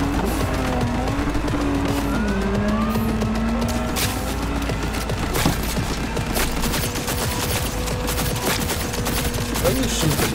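Rapid video game gunfire crackles in dense bursts over a droning engine-like background, with shots repeating through the whole stretch and someone talking at times.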